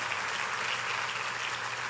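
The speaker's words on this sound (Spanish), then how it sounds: "dele un fuerte aplauso a Dios en agradecimiento" A church congregation claps together, a dense, steady wash of applause from a large crowd that holds even and loud throughout, with no voices standing out.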